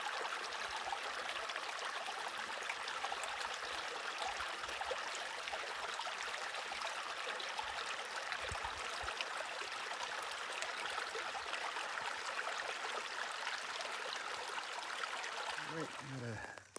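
Creek water runs steadily below a backcountry camp in the Aldo Leopold Wilderness, a constant broadband rush near a swimming hole, even and unbroken throughout with no talk.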